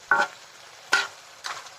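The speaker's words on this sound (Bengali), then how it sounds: "এই তেলটা দিয়ে কষানোর সময় মুরগির মাংসগুলোকে ভাজা ভাজা মতো করে নেব" Broiler chicken pieces fry in oil during a curry's browning stage: three separate bursts of sizzling and stirring, the first two loud and sharp and the third softer, with quiet pauses between them and no talk.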